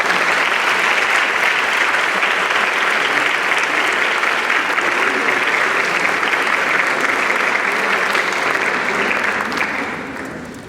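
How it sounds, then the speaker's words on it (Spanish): A university lecture audience gives a strong, sustained round of applause after a keynote talk, a loud, dense wash of clapping that holds steady for around ten seconds before fading out at the end. "Un fuerte aplauso."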